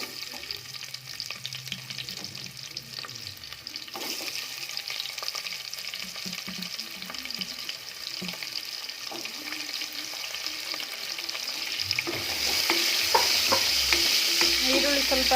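Onions roasting in a pan with fennel, cloves and bay leaf for tomato bath crackle and sizzle steadily, with occasional stirring scrapes, growing louder and brighter toward the end.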